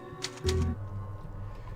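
Typewriter save-point sound from the video game Resident Evil 4: a few crisp mechanical clacks with a short low thud, then quiet, then one more clack at the end.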